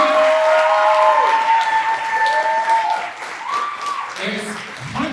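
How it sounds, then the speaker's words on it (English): An audience at a scholarship awards event applauds steadily for several seconds, a dense wash of clapping that fades slightly toward the end, with a voice heard over it. "I just wanted to give a round of applause for Tracy."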